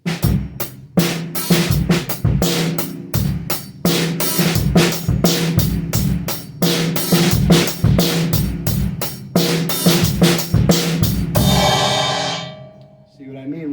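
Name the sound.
drum beat with soft ghost notes and loud backbeat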